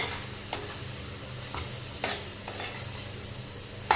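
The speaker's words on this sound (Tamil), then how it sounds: "சேர்த்திட்டு நல்லா கலந்து விட்டுறலாங்க" Eggplant coated in masala and rock salt is stirred in a pan over the stove, with a steady sizzle and a few sharp scrapes of a spoon against the pan, and no talking.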